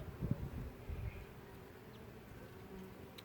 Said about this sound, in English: these bees are actually being relatively calm right now